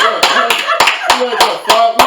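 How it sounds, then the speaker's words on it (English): Someone claps hands at a podcast recording, giving sharp, close, evenly spaced claps, about eight in two seconds. "Yo, round of applause."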